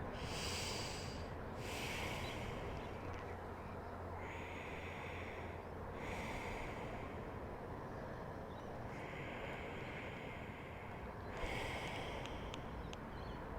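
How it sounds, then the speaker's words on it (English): Slow, deep yoga breaths during a heart-opening vinyasa flow, with long steady inhales and exhales close to the microphone, several breath cycles in a row over a quiet room. "breathing into the right side body, filling up the right lung"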